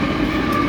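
A short, relatively short BNSF mixed freight (manifest) train rolls southbound under a highway bridge, giving a steady, loud low rumble of wheels and cars with no voices.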